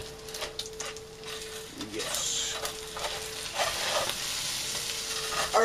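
Eggs sizzle and fry in a pan with a steady crackling hiss, broken by scraping stirs and a faint tonal hum, close and moderately loud throughout.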